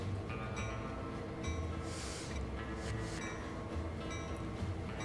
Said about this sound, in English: I am going to actually slow this train down